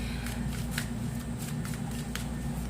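Animal oracle cards are shuffled by hand in a quick run of papery riffles and flicks, close and clear over a low steady hum.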